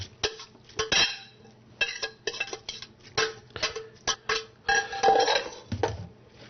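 Steamed leeks being tipped from a pot into a colander at a kitchen sink, with a close run of clattering metal knocks, scrapes and clinks of cookware, irregular and fairly loud.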